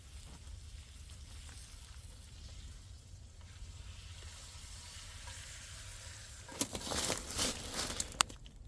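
Mushrooms and onions sautéing in a pan at a cold-night camp in a survival shelter, a steady soft sizzle throughout, with a few louder crackles and stirring clatters near the end.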